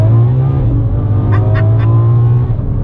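A naturally aspirated V12 engine drones loudly and steadily from inside the car, with a deep sustained hum and a few brief higher blips partway through.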